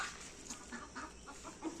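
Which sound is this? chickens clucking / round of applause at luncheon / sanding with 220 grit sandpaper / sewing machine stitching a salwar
chickens clucking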